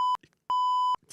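Two sharp electronic censor beeps, a short one then a longer tone about half a second, steady pure pitch cutting in between brief gaps during a live stream.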